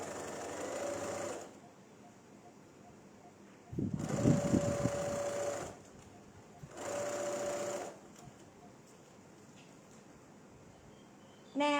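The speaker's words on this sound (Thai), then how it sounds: "ตรงนี้เราจะแค่เย็บล็อก" A sewing machine runs in three short bursts of rapid stitching, lock-stitching a gathered sleeve, each run a close whirring hum separated by quiet pauses.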